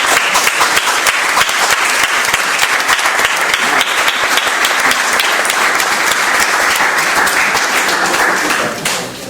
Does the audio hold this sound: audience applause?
yes